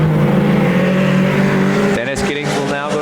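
A dirt-track Mini Modified race car roars around the oval, engine harmonics loud and steady, then breaking up as the car passes and fades, with track announcer talk underneath.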